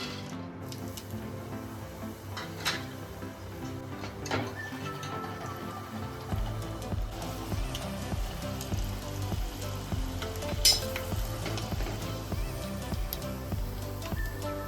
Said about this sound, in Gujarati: આપણે છે ને સિંગાણા તરી લઈશું